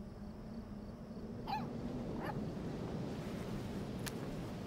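A puppy in the video game Life is Strange 2 gives a couple of short, soft yips over steady outdoor background ambience, faint and somewhat distant.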